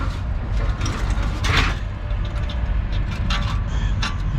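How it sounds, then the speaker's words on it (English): Ratchet working a bolt loose during an RV repair, a steady rapid mechanical clicking and grinding over a low hum, close, with a few brighter metallic scrapes. "I'm gonna mess around with their ratchet"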